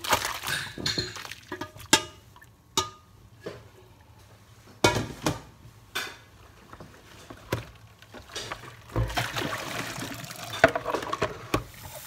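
Boiled dandelion greens being tipped into a colander in a kitchen to drain off the cooking water, with close clinks and knocks of the metal strainer and pot amid splashing and trickling water.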